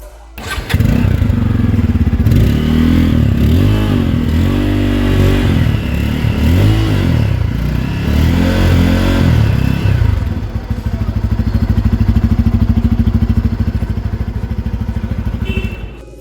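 A Bajaj Pulsar 250F motorcycle (2021) engine fires up and settles into a loud, steady idle with chugging rhythm and a few revs, close by.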